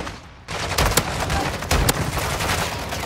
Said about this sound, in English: this shotgun sucks